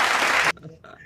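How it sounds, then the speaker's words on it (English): A loud canned applause sound effect bursts out for half a second and then cuts off abruptly, leaving only faint voice sounds. "The applause break."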